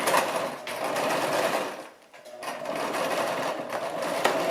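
A Brother LX-3125 sewing machine stitches back over a seam on an apron, a close, rapid mechanical whir that runs, pauses briefly, then starts up again.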